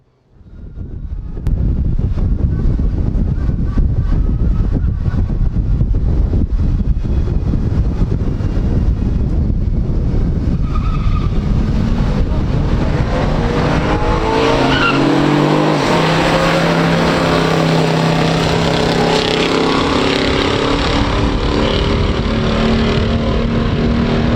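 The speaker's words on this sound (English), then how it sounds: "let's see what they can do on the drag strip." A 1965 Chevelle SS and a 1970 Camaro Z28 RS launch down a drag strip in a stock heads-up race, with loud roaring engines, tire squeal and wind buffeting that carry on for over twenty seconds.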